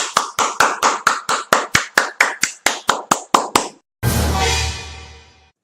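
A run of about fourteen loud, evenly spaced hand claps from close by at a comedy skit, followed by a brief burst of broader noise that fades out.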